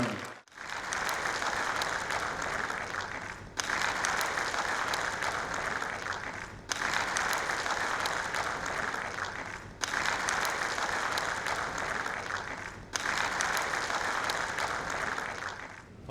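An audience at a stage function claps loudly and steadily to welcome the chief guest, in repeated sustained bursts of dense applause separated by brief near-silent gaps.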